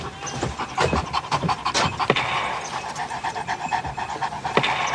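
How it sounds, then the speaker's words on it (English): A dog pants close by in quick, rhythmic breaths, steady and fairly loud, with faint background noise. "This is my dog, Rex"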